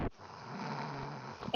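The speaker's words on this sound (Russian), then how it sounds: "И вот так храпишь просто." A man snores loudly and close up, producing one long rasping inhaled snore with a brief snort at the start and a sharp sound at the end.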